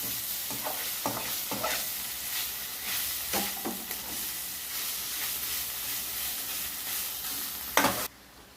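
Ginger paste fries with golden onions in a pan for chicken liver fry, a soft steady sizzle broken by several sharp scraping stirs, close and fairly quiet, ending abruptly.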